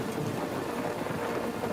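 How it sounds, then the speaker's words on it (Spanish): Steady rain pours down in a spectacular electrical storm, a dense even hiss with low rumbling thunder beneath, continuous and moderately loud throughout. "Cuando de pronto se vio atrapado en una espectacular tormenta eléctrica."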